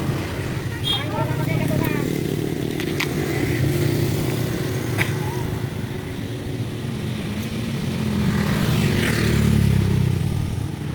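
A machine engine drones steadily to raise a winch during tree pruning, a loud sustained motor hum with slight swells in pitch, with people talking over it.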